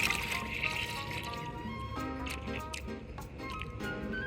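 Water draining out of a tipped-over MGB 18GB engine block during teardown, a steady close trickle and splashing pour with scattered drips throughout.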